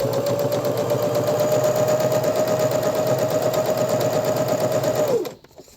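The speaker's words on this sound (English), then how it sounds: "I'm going to hold my threads while it starts sewing and then let go as I feed it through" A sewing machine runs a fabric seam as a steady, fast mechanical whir with rhythmic stitching clatter, loud and close, then stops abruptly near the end.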